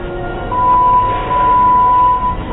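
A ThyssenKrupp traction elevator bell chimes on the fourth floor, a sustained tone sounding twice in quick succession over low cabin hum.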